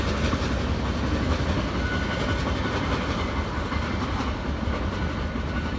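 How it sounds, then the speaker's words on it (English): A Norfolk Southern freight train hauled by three SD40 locomotives rumbles past at close range, giving a loud, steady roar of wheels and rolling cars with faint rhythmic clatter throughout. "My gosh, a trio of SD40s can pull that much."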